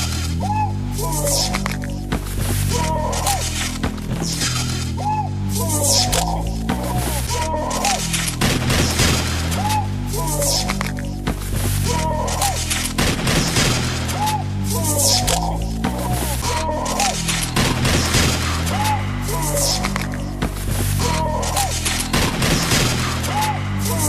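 Repeated bursts of gunfire sound effects ring out over a rhythmic beat in the music game Incredibox, with sharp shots, booms and vocal cries layered in a loud, busy mix.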